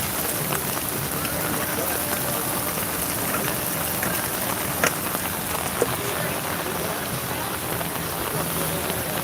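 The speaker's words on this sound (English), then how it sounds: "It's rain, not hail. It just sounds like hail because of the umbrella." Rain pattering steadily on an umbrella outdoors during a protest, a dense, crackly hiss of drops like hail on fabric with a couple of sharper taps, continuous and close.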